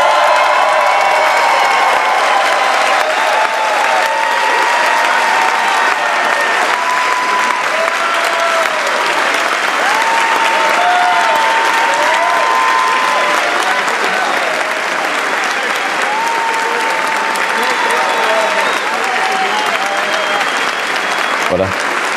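Sustained loud applause fills a hall as President Joe Biden enters, dense clapping mixed with cheers and whoops from a large audience, continuing steadily for over twenty seconds.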